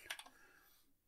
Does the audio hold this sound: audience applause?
no